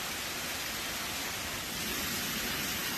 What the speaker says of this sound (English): A storm with hail and heavy rain has hit the town of Reutlingen